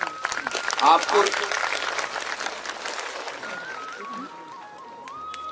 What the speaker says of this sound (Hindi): मैं आपकी तालियों से प्रसन्न नहीं होऊंगा।